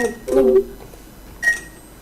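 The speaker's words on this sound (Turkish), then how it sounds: "Telefon." A telephone in the horror video game Cry of Fear gives short electronic beeping tones, two brief bursts about a second apart, with a voice speaking nearby.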